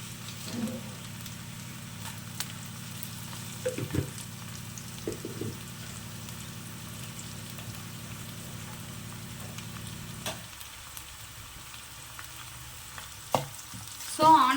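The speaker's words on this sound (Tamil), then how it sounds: "இது கொஞ்சம் நல்லா வதங்கட்டும் ஆனியன் வதங்கிறதுக்கு தேவையான அளவுக்கு உப்பு சேர்த்துக்க போகிறோம்" Onions sauté with salt in a pan for a prawn fry, giving a quiet, continuous sizzle with a few soft stirring clicks; the hiss drops off abruptly near the end before a final clatter, with no talking.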